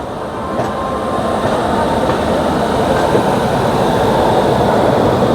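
Betwa Express train standing at Kanpur station, a loud, steady low rumble of idling locomotive and rail yard noise that holds without a break, with no voices over it.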